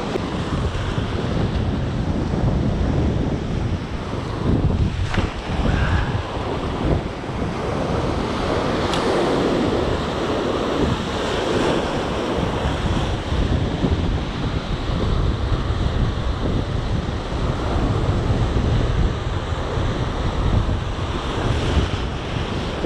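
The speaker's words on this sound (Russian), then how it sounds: "а с другой стороны ветер очень сильно мешает" Strong wind roars at a seashore as waves crash and surge continuously, with heavy buffeting on the microphone and a dense, steady rumble throughout; no voices.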